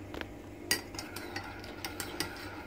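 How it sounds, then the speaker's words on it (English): A spoon stirring milk into a drink, light repeated clinks and scrapes against the cup, faint and close, with no talk. "Time to give it a decent stir."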